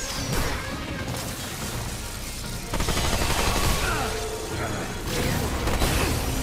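Gunfire from the video game Remnant 2, dense bursts of rapid shots and mechanical clatter across the whole stretch, loud and close with a busy game soundscape.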